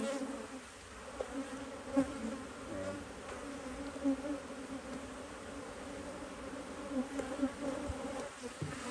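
Honeybees buzz around beehives in a soft, continuous drone with a few louder passes as insects fly near.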